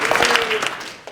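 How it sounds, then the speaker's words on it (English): An audience claps for a guest speaker in a sharp, brief burst of applause that quickly fades out. "Let's give him 2 claps."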